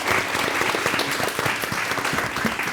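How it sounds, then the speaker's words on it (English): A room full of people clapping steadily and warmly, a dense continuous patter of hands. "Feel free to give them a round of applause, yes?"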